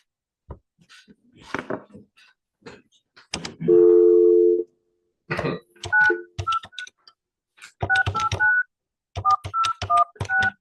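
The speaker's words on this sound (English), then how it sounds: "I'm gonna call her right now." Telephone keypad tones in a courtroom: a string of short electronic dialing beeps in quick bursts, mixed with a steady tone, while people talk between and around them.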